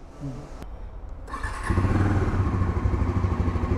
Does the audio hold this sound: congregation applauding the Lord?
no